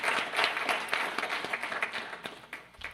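Audience applause at a bio-economy forum in Hawaii, a steady wash of many hands clapping that thins out and grows patchier toward the end.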